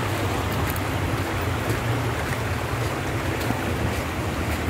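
Clear water of a mountain creek in Surigao del Norte flows in a steady, broadband rush, close and continuous with no pauses, no voices over it.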